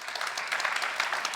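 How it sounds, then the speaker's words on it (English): Brief burst of audience applause at a conference talk on AI, a steady wash of many hands clapping at moderate volume with no voices over it. "So big applause, ladies and gentlemen."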